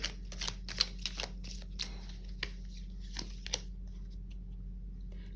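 Tarot cards are shuffled close by in a run of quick papery flicks and riffles, fairly faint, thinning out to a few scattered taps over a low steady hum.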